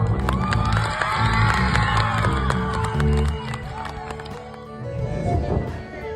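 A crowd at an outdoor concert in Jaffna cheers loudly for a Sa Re Ga Ma Pa music show. Shrill shouts and whoops swell, dip, then rise again, with some clapping mixed in.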